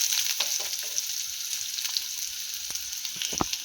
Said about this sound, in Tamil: எல்லாம் போட்டு வதக்கி இப்போ வெங்காயம் நல்லா வதக்கிட்டு